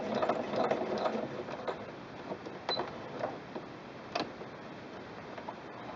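A sewing machine with presser foot A stitches through two layers of fabric, making quiet, rapid mechanical ticking and clicking with a few sharper clacks, fairly faint and close, with no talking.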